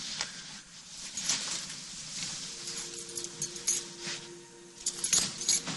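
Faint metallic jingling and clinking, like a bunch of keys being shaken, comes in scattered bursts against a quiet background.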